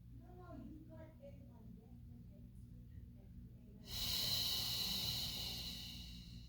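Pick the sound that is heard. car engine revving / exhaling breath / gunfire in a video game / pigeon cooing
exhaling breath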